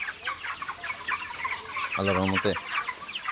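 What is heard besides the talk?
32-day-old chickens clucking on a farm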